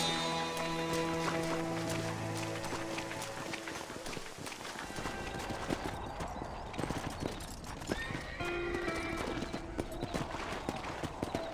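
Horses' hooves clip-clop in the Western video game Red Dead Redemption on PC, with a horse whinnying, hoofbeats trotting and running at close range amid busy game ambience.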